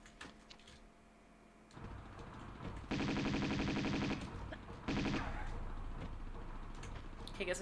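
Weapon fire in Tomb Raider 2 aimed at skidoos, two loud sustained bursts of rapid clattering shots separated by a short pause, over quieter game ambience.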